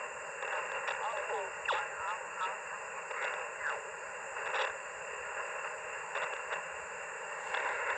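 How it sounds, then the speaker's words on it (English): Steady hiss of static from a ham radio receiver on a portable QRP park-activation setup, with a constant broadband wash and faint warbling, chirping signals drifting through it. "Yeah, so lots of static."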